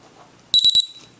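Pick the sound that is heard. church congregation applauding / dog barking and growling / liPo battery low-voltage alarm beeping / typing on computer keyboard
liPo battery low-voltage alarm beeping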